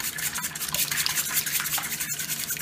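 Whole eggs being whisked by hand in a bowl for homemade flan, a steady, rapid scraping and sloshing beat that continues without pause.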